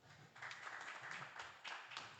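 Applause from an audience at a formal ceremony, heard as a brief patter of many hands clapping, soft and somewhat distant, with no speech over it.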